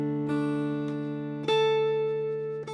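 Fingerpicked acoustic guitar with a brushed strum on the first note of each measure, sustained ringing notes punctuated by a few crisp brush strokes, close and clear with no talking.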